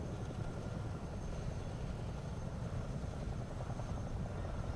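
A simulated CH-47 Chinook tandem-rotor helicopter in Microsoft Flight Simulator 2024, heard from outside the aircraft, gives a constant dense rotor and engine drone with a fast rhythmic beat throughout.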